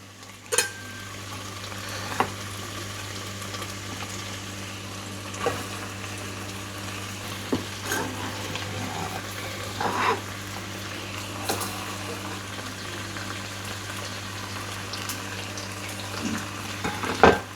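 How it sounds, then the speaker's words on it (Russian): Onion sizzling in a hot pan for a family pot roast, a steady quiet frying hiss with occasional soft stirring clicks and scrapes, no talking. "Сейчас мы сюда отправим лук."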